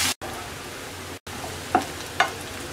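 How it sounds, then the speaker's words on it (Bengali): Chopped onion fries lightly in a pan of oil with a bay leaf, giving a soft, steady sizzle that cuts out briefly twice, followed by two bright metallic clinks of a utensil against the pan. "পেঁয়াজটা হালকা ভেজে নেব।"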